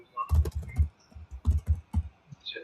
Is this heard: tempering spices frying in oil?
no